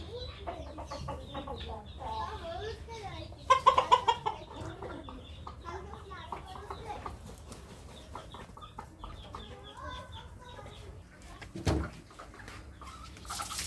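Chickens cluck and squawk in scattered bursts, one louder call standing out, with low background noise and a brief bump of handling sound.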